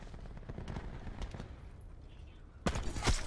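Gunfire in a video game: bursts of rapid shots crackle through the first half, then a pause and a louder pair of close shots near the end, with a voice talking underneath.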